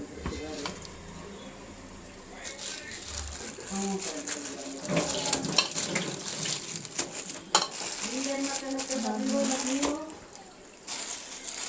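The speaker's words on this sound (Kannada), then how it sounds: "ಈ ಥರ ಎಲ್ಲ ಡ್ರೈ ಮಾಡಿಕೊಂಡು ಇಲ್ಲಿ ಬೇಯ್ತಾ ಇದೆಯಲ್ಲ ಮಸಾಲೆ" Masala cooks and dries out in a pan with a soft, close sizzle and intermittent stirring scrapes, while a person talks nearby at moderate volume.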